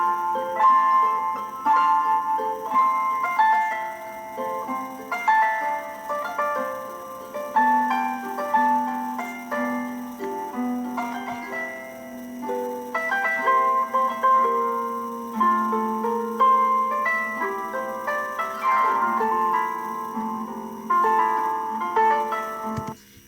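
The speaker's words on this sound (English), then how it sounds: "Let's listen to an example of a harp." A harp plucked in a string instrument lesson, playing a continuous melodic passage of ringing notes with overlapping decays, steady and clear with no talking.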